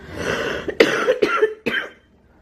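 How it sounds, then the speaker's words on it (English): A few harsh, close coughs in quick succession, each a short raspy burst, then quiet. "Excuse me for coughing."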